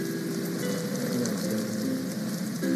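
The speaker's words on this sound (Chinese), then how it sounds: "哇，下这么大雨啊。" Heavy rain pouring down outdoors, a dense, even hiss of falling water that holds steady and fairly close for the whole short stretch, with no voices over it.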